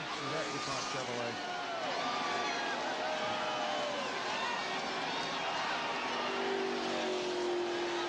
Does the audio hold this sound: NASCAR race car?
yes